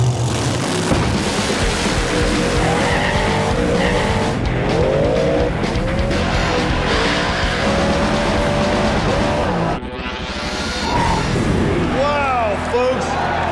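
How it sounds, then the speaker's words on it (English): Drag race cars launch side by side in a no-prep street outlaw invitational round, engines roaring loud and continuous with tire squeal rising near the end, crowd and announcer talk running underneath. "Steve Wiley almost wrecks the car"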